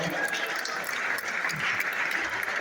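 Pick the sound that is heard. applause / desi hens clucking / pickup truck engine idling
applause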